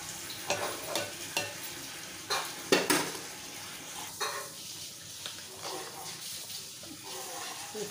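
Chana (chickpeas) frying in a pan while being stirred, with a steady sizzle under repeated scraping and clinking strokes of a spoon against the pan, close and fairly loud.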